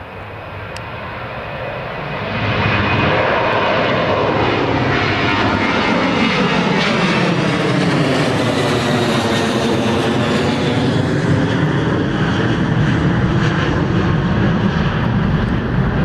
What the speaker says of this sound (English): here's the Ryanair flight to Dublin